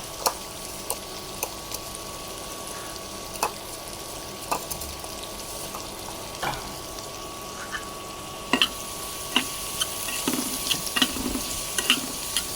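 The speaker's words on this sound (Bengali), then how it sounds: "এখন সুন্দর করে আগে পেঁয়াজগুলো ভেজে নিব।" Chopped onions frying in a pan on an electric stove, a steady soft sizzle with occasional stirring clicks and scrapes, growing busier toward the end.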